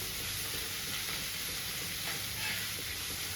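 Onions and green chillies fry in a pan for North Karnataka-style ridge gourd palya, a steady close sizzle and hiss with no talking.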